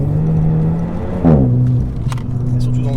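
A Renault Megane 4 RS stage 1 engine drones at a steady pitch during a drift, briefly rising and falling in a quick rev midway through, with some crackles near the end.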